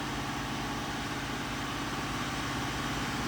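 A car engine held at a steady 2000 RPM during a check for a P0135 oxygen sensor heater fault, giving a continuous, even, close engine drone with no voices.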